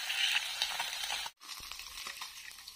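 Small fish frying in hot oil in a wok, a dense steady sizzle and crackle that cuts out briefly midway, then resumes with faint stirring clinks.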